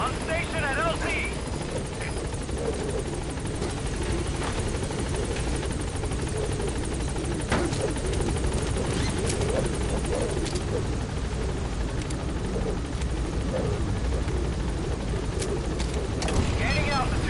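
Support helicopter hovering at a landing zone in Metal Gear Solid V, a steady loud rotor drone and engine whine filling the scene, with radio-style speech from the pilot over it.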